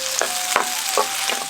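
Mustard seeds, fenugreek, curry leaves, chillies and chopped shallots fry in hot oil with a loud, steady sizzle, broken by a few sharp pops and crackles from the seeds and the stirring, and no voices.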